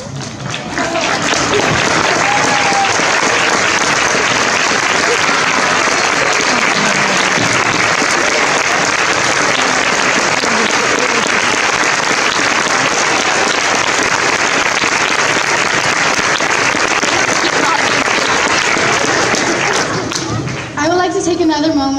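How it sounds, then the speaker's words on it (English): Long, loud wall of audience applause after a Christmas Carol stage play, dense steady clapping sustained for about twenty seconds, with scattered voices and cheers mixed in before it dies down. "just give another big round of applause"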